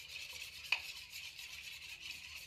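Egg omelette batter being stirred in a bowl, giving a faint, steady soft scraping with one brief click partway through and no voices.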